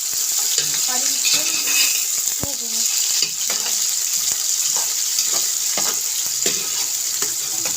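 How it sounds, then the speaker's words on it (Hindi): Steady loud sizzling of onions frying in a pan for chana rice, with occasional clinks and scraping of a utensil stirring. "अब प्याज डाल देते हैं साथ में इसमें"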